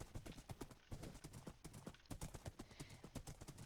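Horse hooves clip-clop steadily and quickly in Minecraft as the animal is ridden at speed, a fast even rhythm that stays quiet throughout.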